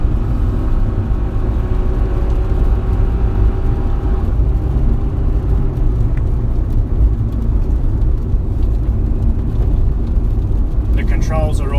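A 2012 Suzuki Swift's engine pulls uphill after dropping down a gear, a steady loud in-cabin drone with road rumble, continuous and close, with a faint higher whine near the end.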